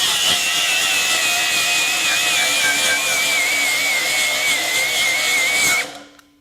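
A DeWalt FlexVolt DCG416 angle grinder bogs down while cutting, its loud, steady high whine sagging and wavering in pitch under load for about six seconds before cutting off abruptly.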